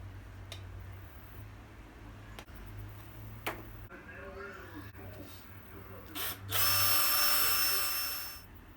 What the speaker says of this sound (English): we'll drill until we've got them all installed